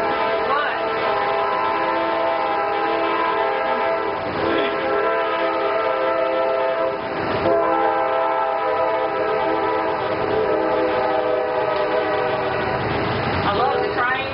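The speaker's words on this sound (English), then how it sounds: "I love the trains" A train rolls past with a continuous rumble and clatter while its horn sounds in several long blasts, loud and fairly close throughout.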